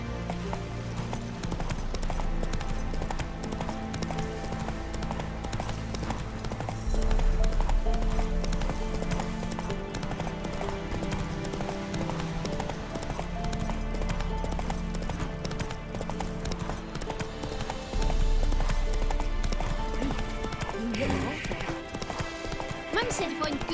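Horse hooves clip-clopping at a gallop in The Witcher 3: Wild Hunt, a steady rhythmic beat running under a dense music score, with a voice speaking over it.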